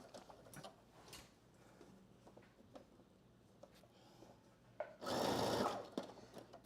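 Faint ticking and handling noises lead into a short, loud burst of a sewing machine stitching the side seam of a McCall's 8053 dress, close by, lasting about a second and a half.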